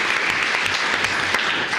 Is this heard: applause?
yes